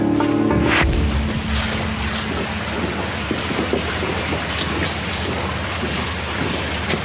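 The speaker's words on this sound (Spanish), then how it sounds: "Entonces empezó a llover." Steady heavy rain pours down in a historical documentary scene about the 1529 siege of Vienna, a dense continuous hiss with a faint low rumble at the start.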